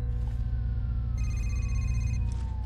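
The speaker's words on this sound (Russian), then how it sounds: "Так, мне Лиза звонит, похоже." A phone rings in the horror game Condemned: Criminal Origins, an electronic ring tone sounding in bursts over a low droning background hum, moderately loud and steady.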